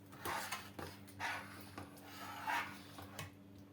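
Homemade pickle mixture with homemade vinegar being stirred in a bowl, producing soft clinks and scraping of a utensil against the bowl in a few irregular strokes, quiet and close, with no talking.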